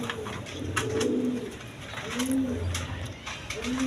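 Maltese pigeons, a large-bodied breed, coo in repeated low rolling phrases, several calls across a few seconds, close by with faint background noise.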